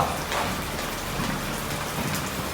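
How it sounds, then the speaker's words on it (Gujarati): Steady rain pattering on a surface, a dense continuous hiss of drops, fairly close, with no voices. "વરસાદ"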